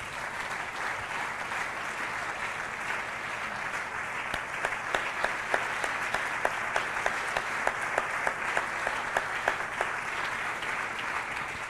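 A church congregation applauds loudly for a patriarch's anniversary, with steady, dense clapping throughout and a few sharper individual claps standing out in the middle.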